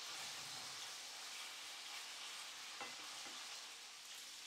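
Meatballs cooking in a pan, giving a steady, soft frying sizzle and hiss throughout, with a couple of faint clinks midway.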